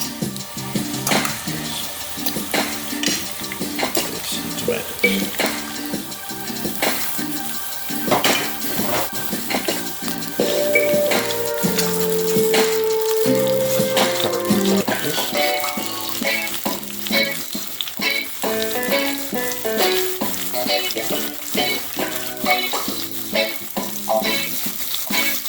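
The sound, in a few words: garlic, scallion and tomatoes frying in a pan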